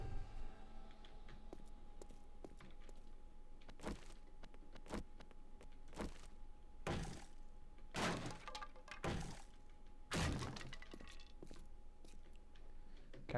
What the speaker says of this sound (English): Kind of destroying the cupboards and stuff that are going to get in my way.